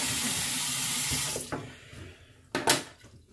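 Tap water runs steadily into a sink while someone rinses off after shaving, a broad close splashing stream that cuts out partway, followed by a couple of brief splashes of water.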